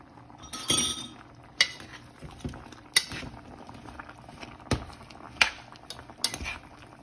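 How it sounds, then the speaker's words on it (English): A utensil clinks sharply against a pot again and again while one-pot pasta with vegetables is stirred, with irregular metallic taps over a faint simmer. "Stir that in."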